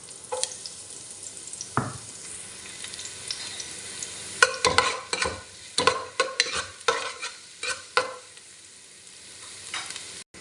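Garlic and onion sautéing in a pan for chicken tinola, with stirring scrapes and bursts of sizzling that come and go over a steady low frying hiss, close up and with no talk.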